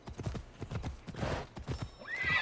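A horse gallops in Assassin's Creed Odyssey, its rhythmic clip-clopping hoofbeats close and clear, followed by a sharp neigh near the end.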